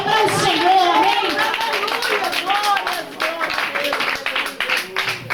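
Congregation clapping during an evangelical church service, a steady patter of many hands running under a loud preacher's voice and crowd sounds throughout.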